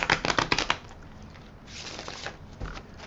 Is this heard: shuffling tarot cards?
yes